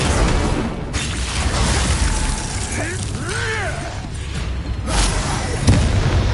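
Explosive spell blasts from the Confringo curse in the Hogwarts Legacy video game, booming bursts amid dense, noisy game combat with a short voice exclamation partway through.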